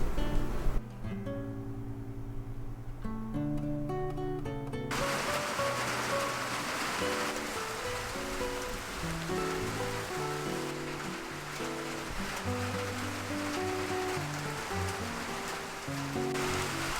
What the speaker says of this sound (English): raining cats and dogs out there